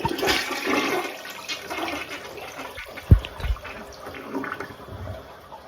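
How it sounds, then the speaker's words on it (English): An old Elger toilet flushes weakly, a gurgling rush of water that swirls and drains poorly, with a sharp clunk partway through and trickling refill after, close and alone. "That's a shitty flush."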